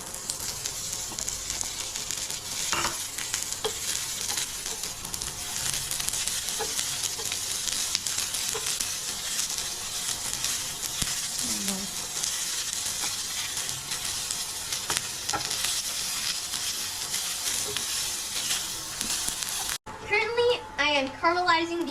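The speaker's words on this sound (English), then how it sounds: "caramelizing these onions" Onions frying and being stirred in a hot pan for caramelizing, a steady close sizzle with occasional scraping stirs throughout, ending with a brief burst of talk.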